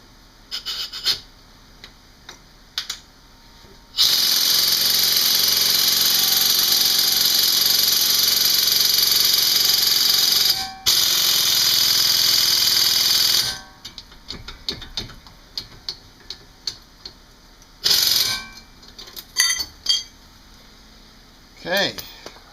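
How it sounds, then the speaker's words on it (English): A 3/8 inch air impact gun run on a 2002 Audi S4 during a teardown: a loud, continuous pneumatic hiss-roar that lasts several seconds, briefly cuts out, then resumes. Shorter bursts and clanks of tools surround it. "I just tried the 3/8 inch impact gun, air gun, and it didn't work"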